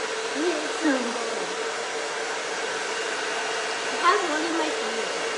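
A hair dryer blows steadily on a pottery piece before powder glaze goes on. The whir stays close and constant, with a voice faintly heard under it.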